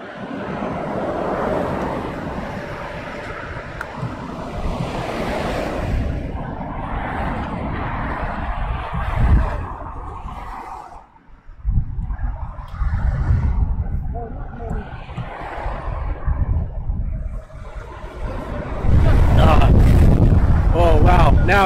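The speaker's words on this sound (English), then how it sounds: "Big gusts of wind now." Strong storm wind gusts buffet a microphone at an airport during crosswind landings, with loud roaring rushes rising and falling over about twenty seconds and a voice talking at times.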